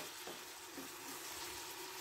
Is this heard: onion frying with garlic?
yes